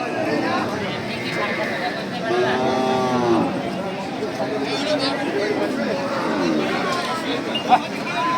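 Cattle low and moo at a crowded market full of livestock, one drawn-out moo standing out near the middle over steady crowd chatter and someone talking.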